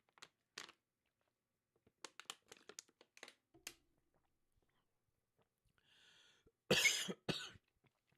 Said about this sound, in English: Excuse me, let me clear my throat.